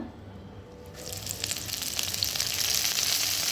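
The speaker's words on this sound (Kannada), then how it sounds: "ಕೊತ್ತಂಬರಿ ಸೊಪ್ಪು, ಹಸಿಮೆಣಸಿನಕಾಯಿ, ಚಕ್ಕೆ ಮತ್ತು ಲವಂಗ ಹಾಕ್ಕೊಂಡು ಚೆನ್ನಾಗಿ ಫ್ರೈ ಮಾಡಿ" Mint leaves, coriander, green chilli, cinnamon and cloves frying in oil in a pan for chicken, a steady hiss that swells from quiet to a loud, crackling sizzle, with no talking over it.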